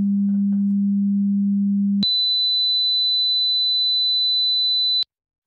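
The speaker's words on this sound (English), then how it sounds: "those two tones should be perceived fairly differently" Two pure sine test tones play one after another: a low steady hum for about two seconds, then an abrupt switch to a high, thin whistle-like tone held for three seconds before cutting off cleanly.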